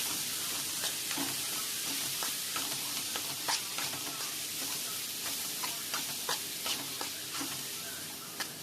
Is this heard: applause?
no